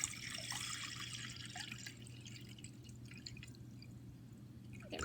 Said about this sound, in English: so I'll fill up my water for you